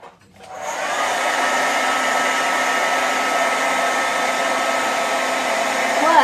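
A hair dryer blows steadily and close, a continuous broadband whoosh that starts after a brief moment and holds at even loudness throughout, with no talking.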